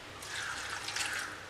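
Water poured into a cooking pot of chembu (taro) curry with green chillies and curry leaves, a brief soft splashing trickle, quiet and close.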